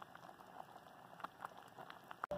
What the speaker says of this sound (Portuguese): Nossa arroz já começou a pegar fervura